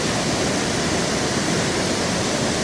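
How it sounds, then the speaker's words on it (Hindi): Bhatinda Falls in Dhanbad, Jharkhand, pours onto rocks with a loud, dense, unbroken roar that fills the whole clip and holds steady throughout. "पानी का साउंड तो ऐसे ही रहता है जब पत्थरों से गिरता है"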